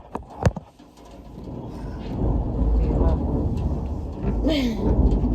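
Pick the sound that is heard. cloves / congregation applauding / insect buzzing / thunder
thunder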